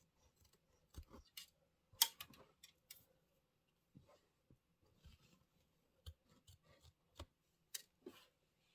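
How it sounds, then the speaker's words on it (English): Scissors trimming quilt fabric on a pillow project: a series of sharp, close snips and small clicks scattered irregularly, some quick pairs, with quiet gaps between cuts. "I'm going to go ahead and trim all these off right now"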